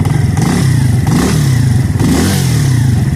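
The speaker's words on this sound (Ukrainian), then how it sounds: "Бачите, мотоцикл робить більш-менш, ну, мотоцикл робить нормально, стабільно." A Spark SP125C-2AMW motorcycle engine idles up close, a loud, steady low-pitched chugging with a rapid even pulse and slight dips in rhythm, with no voices over it.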